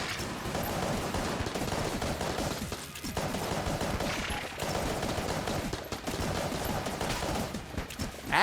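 The Polaris gun firing in the video game Enter the Gungeon, a rapid, unbroken stream of shots with a couple of brief pauses, loud and dense over busy game noise, with no talk.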